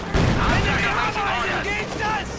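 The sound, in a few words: Nebelwerfer rocket artillery firing in video game Company of Heroes 2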